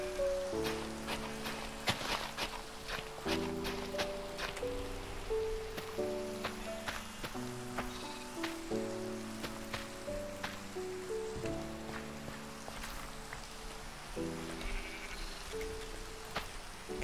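Steady hiss of rain in the video game Minecraft at night, a continuous soft patter running beneath a melodic in-game music track with plucked, tonal notes throughout.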